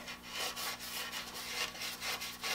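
Steel wool rubbing along a wooden quilt rack in quick, even back-and-forth strokes, a close, scratchy hiss repeating several times with no talking.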